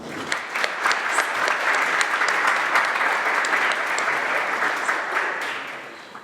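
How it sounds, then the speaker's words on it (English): Sustained audience applause at an academic forum honoring economist David Audretsch, a dense even wash of clapping from a room full of people that holds steady for several seconds before tapering slightly at the end. "Can we give him a round of applause?"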